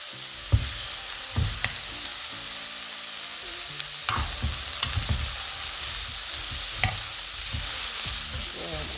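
Hot pepper and sprat fish fry in a pot with a steady, close, hissing sizzle, punctuated by occasional sharp clinks and knocks from stirring, with no talking.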